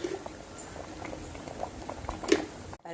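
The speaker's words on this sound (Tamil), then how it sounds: "கொதித்து வந்துட்டுருக்கு, இன்னும் ரெடியாக இல்லை." Sardine fish curry bubbling in a pot: soft, steady popping and gurgling of a simmering liquid throughout, with one louder burst near the end before the sound cuts off.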